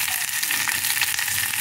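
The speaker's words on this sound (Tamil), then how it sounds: "கிராம்பு ஏலக்காய் பொரிஞ்சிட்டு வெங்காயம் பூண்டு வெங்காயம் பூண்டு" Cloves, cardamom, onion and garlic frying in hot oil, a steady, close, bright sizzle with no break.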